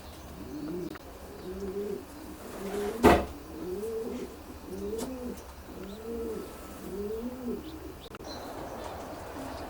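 Racing pigeons coo in a series of soft, rhythmic, nearby calls inside a long-distance racing loft with secluded nest boxes, with a single sharp knock partway through.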